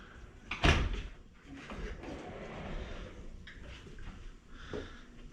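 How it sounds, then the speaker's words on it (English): Room doors at the Coronado Springs resort at Walt Disney World, a loud close thump as one opens or shuts, followed by softer sliding, shuffling handling sounds and faint clicks in a quiet room. "I like these doors."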